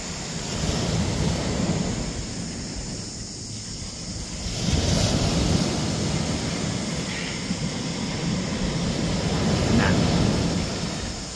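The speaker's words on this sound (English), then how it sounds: "Oh, there's the water. There's the water coming." Water washes in at the shore along an Australian coastline, a soft continuous surf rush that swells a little at times, blended with steady wind noise on the microphone.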